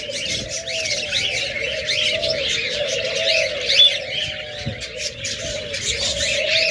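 Pet budgerigars, cockatiels and lovebirds at a bird sale chirp and tweet continuously in a dense chorus, with a steady low coo running underneath, close and fairly loud, without talk.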